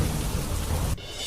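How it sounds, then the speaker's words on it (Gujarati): Heavy stormy rain pours in Alwar as a dense, loud, steady roar that cuts off abruptly near the end, leaving a quieter hiss. "અલવરમાં મેઘો તોફાની બન્યું."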